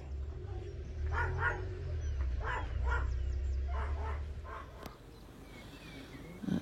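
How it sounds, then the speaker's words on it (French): An unhappy dog barks and yips in short, strained bursts, fairly close, over a low steady rumble, then goes quiet near the end. "Le chien n'est vraiment pas content"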